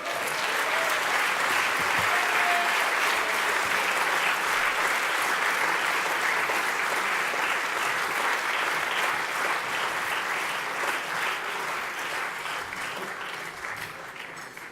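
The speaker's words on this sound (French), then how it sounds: "Je vous demande d'accueillir chaleureusement et de faire un tonnerre d'applaudissements à Patrick Pouyanné." Audience at a 2018 fundraising dinner gives sustained, dense applause to Total CEO Patrick Pouyanné, steady and loud for the whole stretch and tapering slightly at the end, with no voices standing out.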